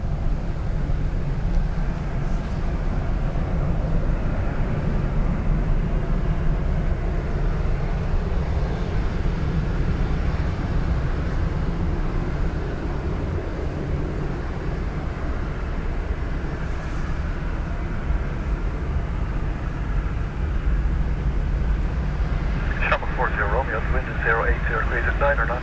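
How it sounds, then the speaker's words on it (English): An Aer Lingus airliner bound for Rome takes off from runway 10 right at Dublin Airport, a steady loud engine roar rumbling throughout from a distance. "Aer Lingus off to Rome. Runway 10 right, 40, going."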